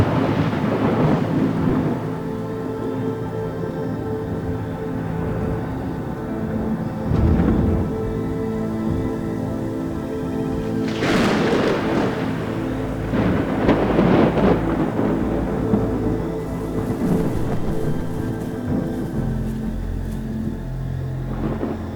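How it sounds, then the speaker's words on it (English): Deep rolling thunder from an African night thunderstorm rumbles through a steady wash of rain, with several louder cracks and booms building up midway through. "The thunderstorm has passed over, but continues to rage."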